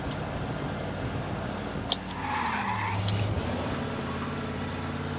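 Car tyres skid in the Mafia video game, a broad noisy screech that swells through the middle of the clip over steady engine rumble, with a couple of sharp knocks and no talk.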